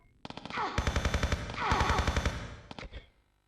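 An enemy fires an automatic weapon in Tomb Raider Chronicles, a loud, close rapid burst of evenly spaced shots lasting about three seconds and then fading out.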